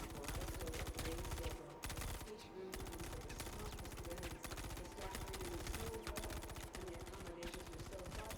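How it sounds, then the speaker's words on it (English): Security guards fire weapons in a space-themed video game, producing dense, continuous bursts of rapid gunfire that keep going with only brief gaps, with faint talk mixed underneath. "they're like shooting at that dude"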